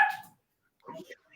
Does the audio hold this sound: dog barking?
yes